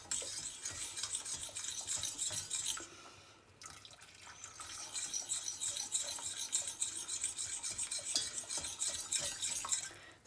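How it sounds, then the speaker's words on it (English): A whisk scrapes and swirls steadily through a thickening sauce in a pot, a continuous close rasping stir that pauses briefly midway, then resumes at the same brisk pace. "constantly whisk"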